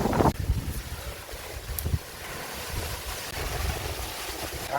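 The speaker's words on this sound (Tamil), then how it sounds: "காத்தான காற்று" Strong outdoor wind gusts buffet the microphone in a village setting near coconut palms, a steady roaring rush with sharper bursts at the start, no voices.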